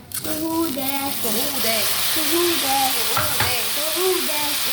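Rice gets stirred and sautéed in a pot, giving a steady frying sizzle with scraping stirs, while a voice and an adult's voice talk over it throughout.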